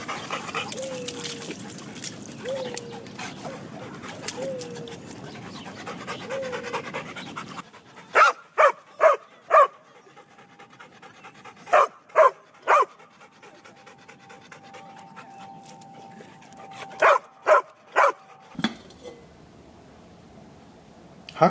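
Two dogs pant rapidly and closely for several seconds, then give sharp barks in quick clusters of two to four, separated by short pauses, with no talking.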